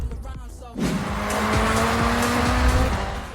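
A 1985 Ford RS200 Evolution Group B rally car in the Forza Horizon 6 racing game: after a brief quieter start, a loud, close engine roar surges in and holds steady, with tire squeal rising over it.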